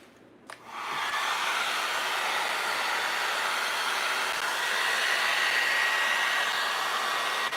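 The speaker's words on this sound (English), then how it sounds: "let's dry that a little." A hair dryer clicks on about a second in and blows steadily at close range over a vintage window, a loud, even airy whoosh with a faint motor whine that holds unchanged to the end.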